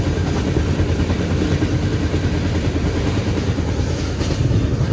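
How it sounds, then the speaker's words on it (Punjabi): Continuous low rumble of a train running on the tracks from Punjab toward Hazur Sahib, steady and close, with no voices. "ਟ੍ਰੇਨ ਆਪਣੀ ਚੱਲ ਰਹੀ ਆ ਜੀ"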